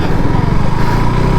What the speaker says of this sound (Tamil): அங்கே பாரு தாத்தா தான் டிராக்டர் விட்றாரு.